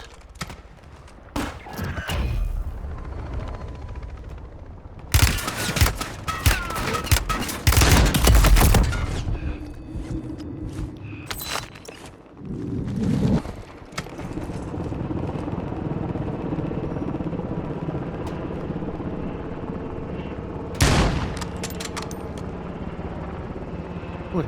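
Gunfire in a video game: loud bursts of shots and explosive blasts cluster mid-clip and again near the end, over a steady engine-like drone resembling a helicopter.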